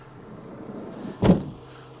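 A side door on a Ford Transit Custom L2 2.0 diesel van shuts with a single solid thud, close by and outdoors in cold wind, against a faint background hum.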